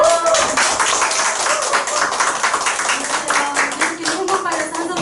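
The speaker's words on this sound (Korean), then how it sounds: "큰 박수 부탁드리겠습니다." An audience claps loudly and steadily for about five seconds, welcoming a speaker to the stage at an indoor event.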